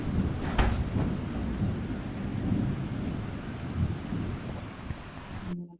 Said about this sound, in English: It's the sound of rainfall